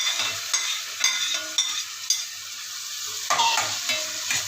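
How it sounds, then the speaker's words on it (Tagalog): Garlic, onion and tomato are sautéed together in a pan, giving a steady sizzle with repeated scraping stirs of a utensil at roughly one-second intervals, close up and with no talking. "maglagay na tayo ng pagsabay-sabayin ko na naman ito mga guys. Yung ating bawang sibuyas kamatis."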